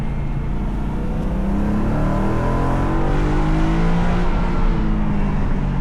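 A BMW M3 E92 engine with an aftermarket exhaust drones loudly and steadily from inside the cabin with the windows down, a low rumbling exhaust tone rising slightly in pitch as it accelerates.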